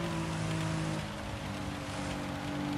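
Steady rain hiss and spatter from a wet-weather race in Gran Turismo 7, mixed with a low continuous car engine drone throughout, moderately loud with no speech.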